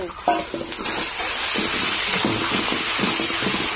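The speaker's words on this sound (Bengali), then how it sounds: "আর এখন দিয়ে দেবো মাছের তেলটা" Fish oil sizzling in a pan with fried onions, a steady hiss of hot oil under repeated scraping and stirring strokes, close and fairly loud, with a brief knock near the start.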